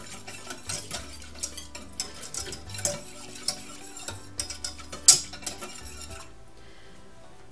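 A spoon scraping and tapping in a pot while a milk and flour mixture cooks for Hokkaido milk bread, irregular clinks and soft scrapes over a faint simmer, with a sharp metallic knock partway through, no voices.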